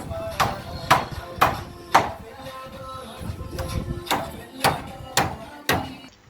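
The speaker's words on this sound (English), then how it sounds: "This pounding went on for a very long time, with the guys taking turns to go over the whole space." Workers take turns pounding the ground by hand for a poultry-farm cabin floor, giving about ten heavy, evenly spaced thuds over a low background murmur.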